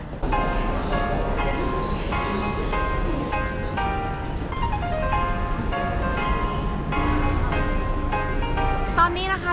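Train sounds at Dapuqiao subway station in Shanghai, a sustained loud mix of tonal hums and rising and falling motor whines with steady rumble, heard continuously.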